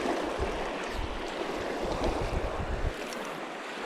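Wind blows outdoors during a fly fishing outing, a loud, steady rushing roar with gusty buffeting against the microphone, close and continuous with no talk.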